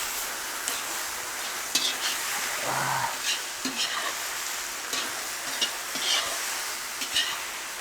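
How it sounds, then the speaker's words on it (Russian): Shashlik meat fries in a kazan with a steady bright sizzle, punctuated by occasional stirring scrapes and clinks against the pot, close and continuous without speech. "Казан пошел жарить."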